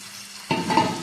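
Pointed gourd (potol) pieces drop into a pan of cooked-down spices and salt and are stirred: quiet at first, then a sudden burst of sizzling with scraping stirring that stays loud to the end.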